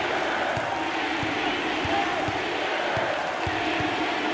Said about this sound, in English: Look at the student section, Dick, cheering on their classmates, their peers.